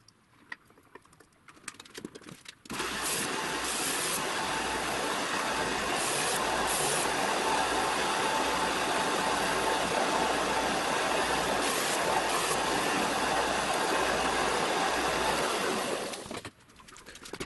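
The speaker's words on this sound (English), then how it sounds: "I clamp them together and then clean up the cut edges on the bench sander." A bench sander grinds against the cut edges of clamped wooden pieces, a loud continuous abrasive whir that starts abruptly and stops near the end.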